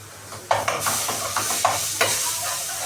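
Steady sizzling of onions browning in a pan, with several scraping stirs at irregular intervals, close and moderately loud.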